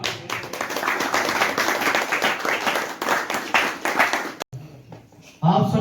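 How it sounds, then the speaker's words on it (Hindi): Loud audience applause fills a hall at a mind power and hypnotism workshop as a hypnotist is welcomed, dense clapping for about four seconds before stopping abruptly, then brief quieter room sound. "जोरदार तालियों से धन्यवाद दीजिए और स्वागत करिए हिप्नोटिस्ट कन्हैया दुबे का"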